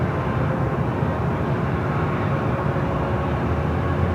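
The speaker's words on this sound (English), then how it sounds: "It's the China Airlines cargo 777 freighter." China Airlines Boeing 777 cargo freighter at LAX, a loud, continuous broadband jet roar filling the whole stretch without letup, no voices.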